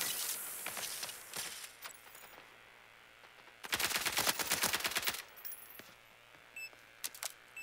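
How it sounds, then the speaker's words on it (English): Gunshots in ALARA Prime crack out sporadically, then a rapid burst of automatic fire rattles for over a second, with scattered single shots before and after over a quiet background. "Bro, you shot me!"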